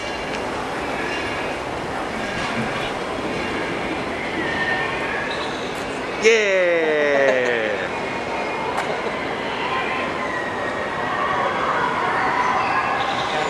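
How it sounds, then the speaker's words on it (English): A train at Disneyland rumbles past steadily, with a rising horn-like tone sweeping through midway, while a person shouts briefly over the noise. "Hi down there. There's a train."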